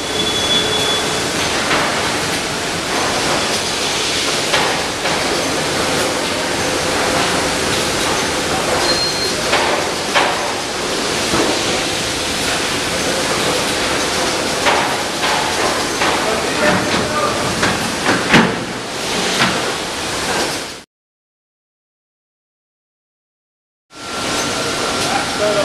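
Bakery dough-handling machine transferring dough into a dough trough, giving a continuous loud mechanical hiss and rumble with scattered clanks, running without pause until a sudden brief cutout near the end.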